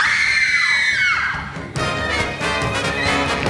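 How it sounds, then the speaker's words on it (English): Women scream in a school stage play of James and the Giant Peach, a loud, high, sustained shriek that slides downward before a mixed crowd of shouting and screaming voices takes over. "Women screamed."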